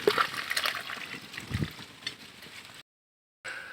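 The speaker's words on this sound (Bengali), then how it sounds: "এই যে আমরা তরকারিটা ঢেলে দিলাম।" Fish curry with thick gravy poured out of a cooking pot, a wet sloshing pour close by that runs steadily and then stops abruptly before a brief faint tail.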